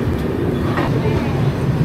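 The 12810 Howrah–Mumbai CSTM Mail train at Raipur railway station gives a continuous low rumble and rolling clatter, close and steady throughout.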